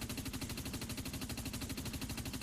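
Rapid automatic gunfire from the video game Dust 514: a loud, unbroken stream of evenly spaced shots lasting the whole stretch, with no voices over it.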